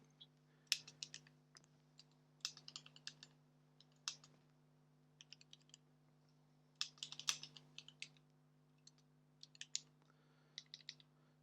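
Keys on a computer keyboard connected to a Z80 terminal-emulation setup are typed in quick bursts of sharp clicks, with short pauses between runs, set against a steady low electrical hum.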